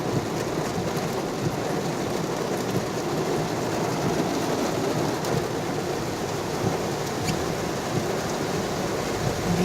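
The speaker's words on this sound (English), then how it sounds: "Look at all that rain." Heavy rain pours down in Florida, a dense, steady roar of rainfall on surfaces with a low rumbling undertone, continuous and close.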